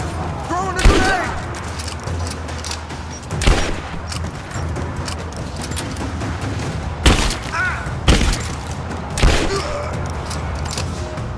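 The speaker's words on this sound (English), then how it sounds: "Throwing a grenade!" Explosions and gunfire in Rise of the Tomb Raider thump out as several sharp, separate booms at irregular intervals over a low rumbling battle background.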